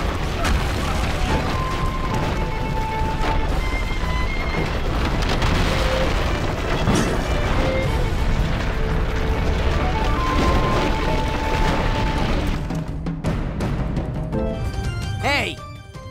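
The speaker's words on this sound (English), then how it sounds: "Explosion!" Cutscene explosion from the Ben 10 Cosmic Destruction video game, a dense, sustained rumbling blast and crashing debris under a game music score, with voices speaking over it throughout.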